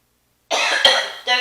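A single throaty cough from a woman, close and fairly loud, followed by a short second rasp after a brief pause.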